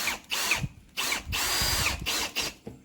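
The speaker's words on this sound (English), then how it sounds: "with these 1 5/8 inch drywall screws going through the paneling and into our 2x2" A power drill drives 1 5/8 inch drywall screws through paneling into a glued 2x2 frame, in several close, loud whirring bursts separated by short pauses.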